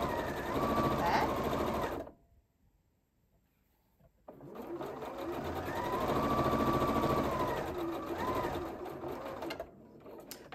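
A sewing machine stitches a 1 cm seam in fabric, running loud and steady for about two seconds, stopping briefly, then running again at length before easing off near the end.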